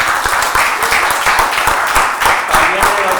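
A church congregation applauds, a steady burst of many hands clapping fairly close, continuous and lively throughout with some voices underneath.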